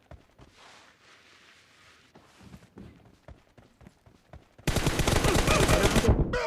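Gunfire in PUBG Mobile: scattered quiet shots and footsteps at first, then a loud, close, rapid automatic burst of evenly spaced shots lasting over a second.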